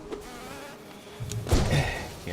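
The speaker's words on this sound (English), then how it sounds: "Big old fat bouncy bees!" Big fat bees buzz in the Hive area of the Hollow Knight video game, a steady insect drone that gets louder toward the end with a few thumps of combat over it.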